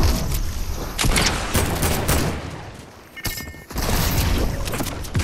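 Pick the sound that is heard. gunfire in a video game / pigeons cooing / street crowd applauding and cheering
gunfire in a video game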